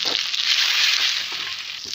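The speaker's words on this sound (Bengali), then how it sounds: "এখানে স্বাদ মতো লবণ, জিরে গুঁড়ো আর পরিমাণ মতো হলুদ দিয়ে একটু নেড়ে করে নেব" Eggplant with salt, cumin powder and turmeric being stirred in a hot pan, a close, bright, continuous sizzle with faint scraping underneath and no voices.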